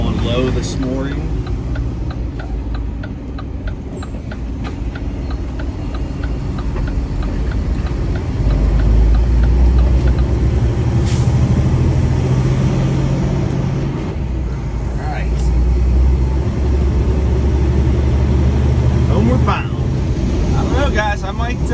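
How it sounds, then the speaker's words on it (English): A pickup truck's engine brake holds it back on a downhill stretch of rural Pennsylvania road, a steady loud low rumble with rising and falling engine drone and road noise throughout, with someone talking over it at times. "Take her easy going down the hill now. Kick our engine brake back up."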